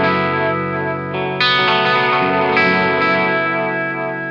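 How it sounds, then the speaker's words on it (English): Electric guitar through an Eastwood Black Box mag delay pedal set with modulation, sustained chords shimmering with chorus-like wobble and echo repeats, loud and close with no talking. "the mag delay goes from 35 milliseconds to 600 milliseconds"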